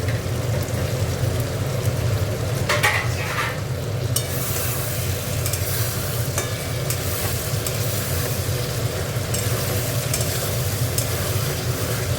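Potatoes fry in hot oil in a pan while a fish curry is cooked, giving a loud, continuous close sizzle with occasional stirring scrapes, steady throughout.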